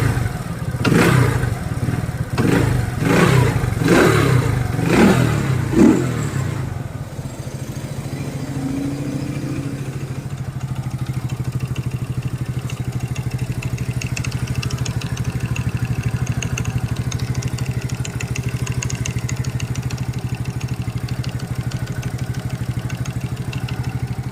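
Small motorcycle engine with only 7,000 km on it, idling rough and lumpy; several sharp revving bursts come first, then an uneven running idle continues alone with a faint clatter.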